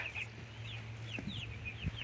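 Chickens cluck repeatedly on a small farm that also keeps chicks and ducks. The calls come in short, close bursts over a steady low hum.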